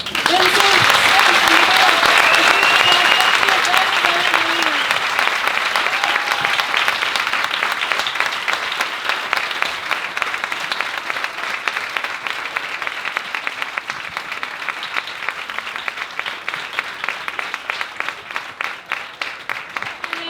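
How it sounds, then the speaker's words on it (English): A large audience at a talk on stress gives sustained, loud applause, a dense roar of clapping that starts strong and slowly thins into more distinct individual claps, with cheering and voices mixed in near the start. "You can write me while we're giving you guys a grand applause."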